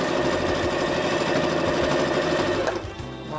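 A sewing machine stitching leggings fabric runs in a steady, fast mechanical chatter, loud and close, then briefly slows and changes pitch near the end, with no talk.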